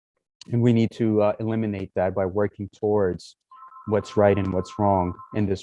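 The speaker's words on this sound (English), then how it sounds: "Please excuse the phone ringing in the back." A telephone rings in the background behind a lecture, a steady trilling tone entering about halfway through and repeating faintly under continuous male speech.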